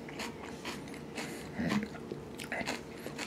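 Celery being bitten and chewed up close, a few crunchy bites across a short stretch with faint background voices.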